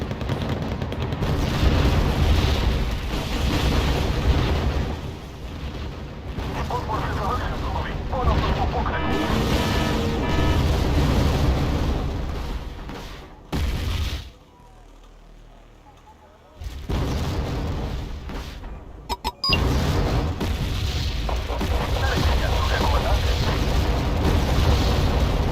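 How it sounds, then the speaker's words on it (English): Mortars in a Wargame battle fire rapidly, with repeated heavy booms and rumbling explosions layered under a talking voice, then a short near-silent lull before the barrage resumes. "I'm quite impressed with the fire speed. As far as mortars go, anyway."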